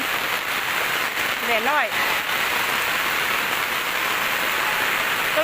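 Rain falls steadily during a flood in Xai town, a dense, constant hiss that runs throughout, with a voice speaking briefly over it.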